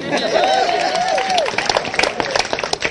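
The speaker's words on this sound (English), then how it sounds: "you can clap for that" Audience at a community meeting for an MLK street naming applauds in a dense, loud burst that thins into scattered claps toward the end, with voices rising over it.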